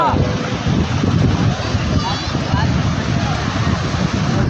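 Sea waves wash onto the shore behind Somnath temple in a continuous roar, with heavy wind buffeting throughout and voices faintly mixed in.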